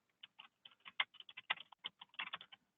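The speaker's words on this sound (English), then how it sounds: "I'm going to type in a subject." Quick, light keystrokes on a computer keyboard type in a short subject line, an uneven run of faint clicks heard alone and close.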